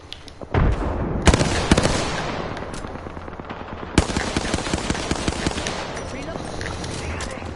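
Hemlock rifle fire in Apex Legends, rapid bursts of close, loud shots with sharp cracks, a sustained volley under brief game voice callouts.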